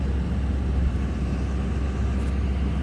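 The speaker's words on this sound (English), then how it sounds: "This truck, man, all of a sudden want to get loud." A loud truck passes close by, a steady low engine rumble and road roar holding constant throughout.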